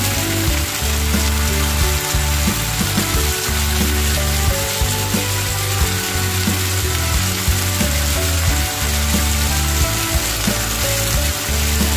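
Shallots, stink beans and anchovies stir-fry in a pan with a loud, continuous sizzle and crackle, while the spatula gives repeated scraping and clattering strokes, close up and with no talking.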